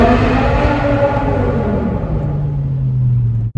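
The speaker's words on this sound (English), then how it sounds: "so this is the sound of the V10." A BMW M5 V10 engine holds a steady, loud rumbling drone up close, its pitch sliding gradually lower before cutting off abruptly at the end.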